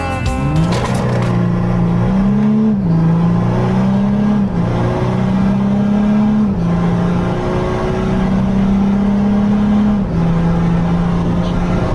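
A tuned Volkswagen Amarok V6 pickup, stage 2 with DPF and EGR removed and about 340 hp, drones loudly and steadily as it accelerates, its engine note climbing through several gear changes across the whole stretch.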